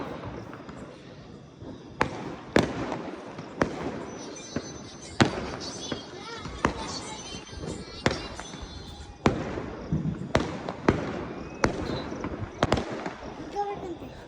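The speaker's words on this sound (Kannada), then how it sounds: "ಏರಿಯಾದಲ್ಲಿ ಪಟಾಕಿ ಅವಳಿ ಸ್ಟಾರ್ಟು" Firecrackers burst across a neighbourhood during celebrations after an RCB cricket win, with roughly a dozen sharp, echoing bangs at irregular intervals over a steady background din and some voices.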